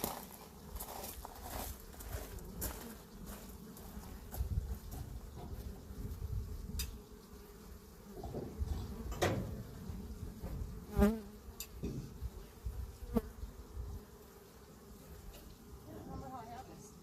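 Honeybees buzzing around an open hive while honey supers are added, a steady close drone with individual bees zipping past; a person speaks briefly over it.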